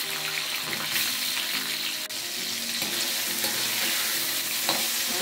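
Tomatoes fry in hot oil for sambal, with a steady, loud, close sizzle throughout and faint stirring scrapes, no talking.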